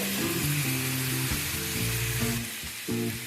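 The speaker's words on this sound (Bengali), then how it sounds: "এবার এই চিকেনটাকে এর মধ্যে দিয়ে দিচ্ছি।" Medium-sized chicken pieces hit a hot pan of spices and sizzle loudly and continuously, with stirring noises and no talk, for a spinach chicken dish.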